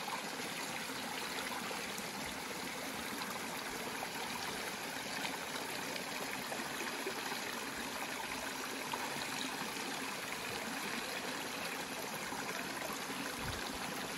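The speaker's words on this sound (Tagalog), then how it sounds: "So, may falls dito." A small natural waterfall gives a steady, even rush of flowing water throughout, with a constant broadband hiss and no voices.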